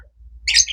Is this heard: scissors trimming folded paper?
no